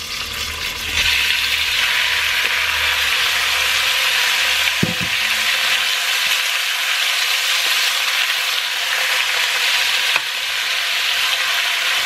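Thin strips of beef dropped into hot oil burst into a loud, steady sizzle that holds for several seconds, with a couple of brief clinks, close to the pan.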